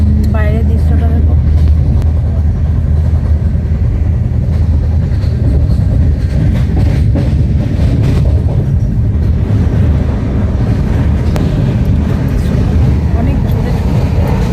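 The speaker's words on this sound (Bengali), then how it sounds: "ট্রেন ছুটছে প্রচণ্ড জোরে," Inside the Delhi Duronto Express as it runs at high speed, a loud continuous low rumble and roar of the train fills the whole stretch, steady and close, with a faint whining tone near the start.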